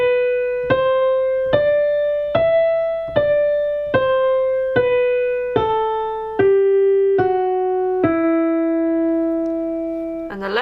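Piano right hand plays an E natural minor scale, one clear note at a time at an even, moderate pace, ending on a held low note, solo with no voices.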